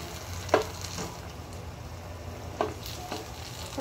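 Pork adobo bubbles and sizzles in a pan, a soft steady simmer broken by a few brief louder pops and stirring clinks.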